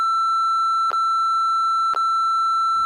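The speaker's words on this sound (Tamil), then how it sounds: "இதுக்கு பீப் போடுறீங்க" A loud, steady censor beep tone holds unbroken at one pitch, with two brief clicks in it, the kind dubbed over swear words in a Tamil film review.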